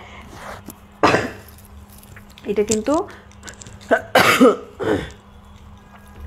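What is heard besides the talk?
coughing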